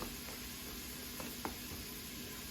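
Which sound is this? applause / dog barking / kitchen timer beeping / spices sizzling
spices sizzling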